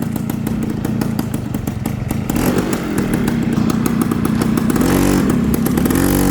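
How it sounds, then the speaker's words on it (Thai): A Yamaha Alpha motorcycle engine revs steadily on a test ride, a loud, continuous buzzing drone with rising intensity partway through, close and dominant with no talk. "แล้วเรามาทดลองขับกันนะฮะ รถคันนี้จะแอบซิ่งนะฮะ"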